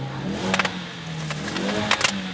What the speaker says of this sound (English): this is what the Focus exhaust sounds like